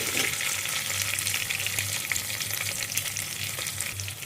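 Green chillies fry in a hot pan with a loud, continuous sizzle and crackle, near and steady throughout, with no voices.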